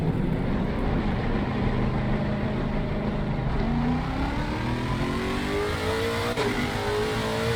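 A Lexus RC F GT3 race car engine in the video game Assetto Corsa Competizione drones steadily at Kyalami, then revs upward as it accelerates, its pitch climbing smoothly with no voices.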